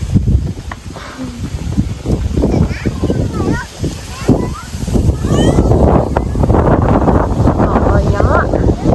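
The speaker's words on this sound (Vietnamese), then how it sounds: "Trời ơi gió." Outdoor wind buffets the microphone in loud, low gusty rumbles that rise and fall, while people talk over it.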